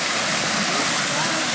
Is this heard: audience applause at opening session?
no